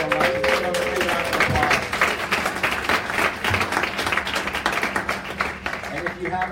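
Audience at a startup pitch night breaks into loud, sustained applause, with dense clapping filling the room and talk over it.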